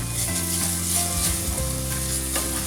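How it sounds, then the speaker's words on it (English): Ginger garlic paste sizzles loudly in a hot pan while being stirred, a steady close crackle with low scraping strokes and no talk. "Now I'm going to add in the rest of the ginger and garlic paste. Just going to mix that in."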